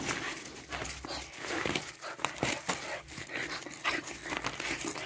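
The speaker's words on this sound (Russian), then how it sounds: "Вот они, белые щеночки." Five-month-old white puppies whimper and pant close by in a steady, busy stream of soft whines and breathy panting, with no talking.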